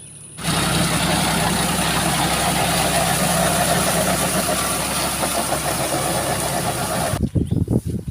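A tractor engine idles with a steady, rumbling drone close by, then cuts to choppy, uneven sounds near the end.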